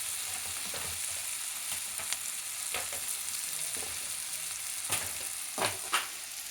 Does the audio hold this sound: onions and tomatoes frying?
yes